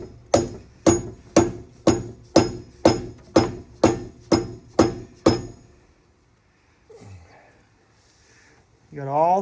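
Mallet blows on a GMC engine cylinder head: about eleven evenly spaced, loud metallic knocks in a steady rhythm, then a pause with faint movement and a brief voice at the end.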